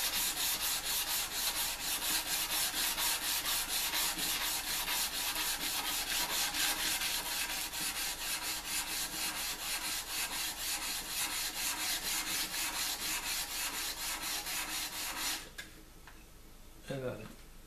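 Sandpaper rubs by hand over a san mai kitchen knife blade of Damascus and wootz steel, a fast, even back-and-forth rasp that continues for about fifteen seconds before stopping briefly, with a short voice at the end.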